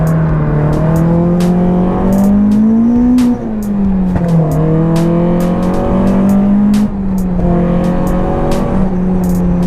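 A Toyota AE86 drifting: the engine holds a steady high drone that rises and dips in long sweeps as it revs, close and loud, with sharp bursts of tyre noise cutting in above it.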